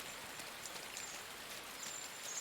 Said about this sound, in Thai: แล้วฝนตกด้วย